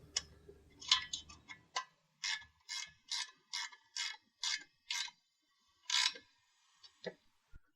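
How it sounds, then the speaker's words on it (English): A ratcheting tool snugging set screws on the crossbar of an Access Adarac truck bed ladder rack, a run of about a dozen crisp metallic clicks in a steady rhythm, close and clear, then a few slower final clicks. "Now I'm ready to just snug up my set screws."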